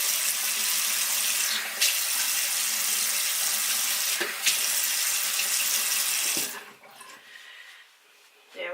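Water running steadily from a tap during a morning skin and hair care routine, a loud broadband rush with brief interruptions, then shutting off to quieter handling sounds.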